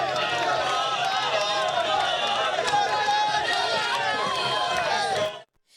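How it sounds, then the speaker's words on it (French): A large crowd gathered to celebrate the 45th anniversary of a political party in Djibouti, a dense, steady roar of many voices and movement that fills the scene loudly and continuously before cutting off abruptly near the end. "Une foule qui est venue célébrer ce 45e anniversaire du parti"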